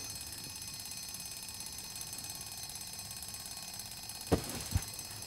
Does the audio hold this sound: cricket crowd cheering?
no